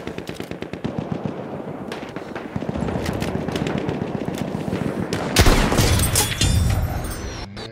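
Battlefield 1 gunfire crackles through a busy multiplayer battle, with dense rapid bursts and sharp reports, a loud crack and boom toward the end, and no talking.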